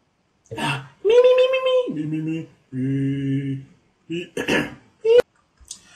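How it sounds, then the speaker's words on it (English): A person clears their throat in a few short, rough bursts mixed with brief voiced speech sounds, close and fairly loud, with pauses between. "I'm sorry to be clearing my throat here"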